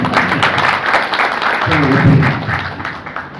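An audience at a public university lecture on Ambedkar bursts into brief, dense applause lasting a few seconds, close and loud, with a voice speaking over it.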